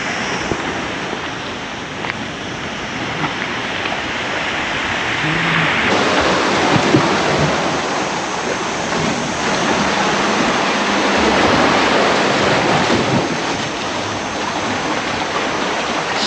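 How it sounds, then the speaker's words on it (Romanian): Someone wades through shallow sea water at a natural beach in Ibiza, with a steady rushing splash and swish of water close by, rising and falling slightly in loudness with no talking. "Și acum mersul prin apă."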